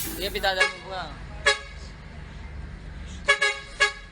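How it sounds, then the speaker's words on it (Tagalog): A bus horn honks several times in short blasts at an e-trike ahead, a longer one first then quicker repeats, over a steady rumble of traffic and road noise on EDSA in Cubao at night. "Ilang beses nang bumusina ang bus para tumabi ang e-trike"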